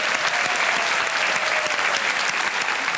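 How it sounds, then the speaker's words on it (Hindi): Studio audience on a television quiz show set breaks into steady, full applause, a dense close wash of many hands clapping without pause. "इसके लिए हम ताली बजवा देंगे आपके लिए।"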